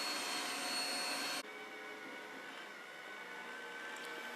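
An Ecovacs robot vacuum cleaner runs steadily with a broadband whirring roar that drops to a slightly quieter, even hum partway through as it moves on to clean another room.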